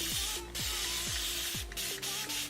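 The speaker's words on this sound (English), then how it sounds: "I'm gonna go in with my spray bottle again." A handheld spray bottle misting water onto hair in several quick hissing bursts, each short spritz sharp and close, with a brief mechanical trigger sound between sprays.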